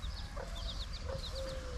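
Chickens, including a hen with her chick, cluck and chirp in short repeated calls over a steady low background rumble, with a few soft higher-pitched peeps mixed in.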